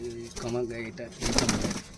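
Low, rolling coos from Giribaz pigeons in a loft, close by, joined by a rustling, noisier flutter toward the end.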